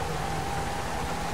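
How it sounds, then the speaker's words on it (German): Steady rain hiss in the GTA 5 video game, a continuous broadband wash of falling rain with a faint low engine hum underneath, no talk. "Oh, mit Regen heute."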